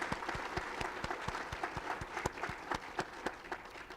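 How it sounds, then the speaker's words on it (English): An audience at a Van Gogh lecture claps in a steady round of applause, with individual nearby claps standing out sharply against the wider crowd. "let's give the Brown Foundation a big round of applause."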